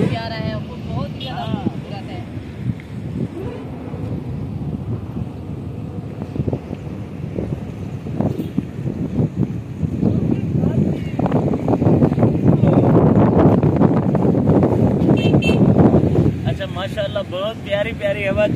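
Wind blowing by the Sutlej river after light rain, a steady blustery rush buffeting the microphone and growing stronger toward the end, with people talking throughout.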